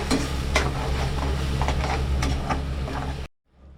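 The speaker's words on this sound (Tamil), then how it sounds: "இங்கே பாருங்க எவ்வளோ சூப்பராக கொதிச்சிட்டு இருக்கு." A bubbling, sizzling tomato chili sauce simmers in a pan with soft scraping and popping, then cuts off abruptly into near silence.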